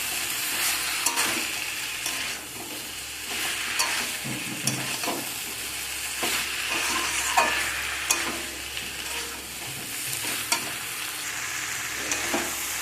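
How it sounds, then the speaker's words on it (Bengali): Broccoli and fried prawns being sautéed in a pan, a steady close sizzle with scraping stirs and spatula knocks throughout. "দু মিনিট কষিয়ে নিয়েছি"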